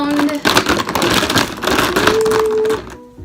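Markers rattle and clatter as they are shuffled around inside a small box, a close, busy jumble of hard plastic knocks lasting a few seconds before stopping abruptly.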